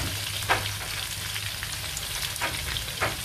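Bird's eye chillies and garlic sautéing in a pan, a continuous close sizzle with a few sharp stirring scrapes, no talk.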